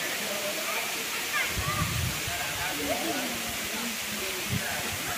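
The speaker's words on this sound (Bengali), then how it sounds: "জলটা পড়ে এইখানে আসছে এবং এখান দিয়ে পুরোপুরি ওইদিকে বেরিয়ে যাচ্ছে।" Water of the Moti waterfall pours down steadily at close range, a broad continuous rushing wash that stays loud and even throughout with only slight swells.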